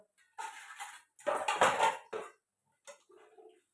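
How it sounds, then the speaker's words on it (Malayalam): Dishes and pots are washed in a home kitchen, with a few separate bursts of clattering and scraping metal and crockery, followed by quieter clinks and brief pauses between them. "പാത്രങ്ങളെല്ലാം കൂടി ഒരുമിച്ച് കഴുകിയെടുക്കുക"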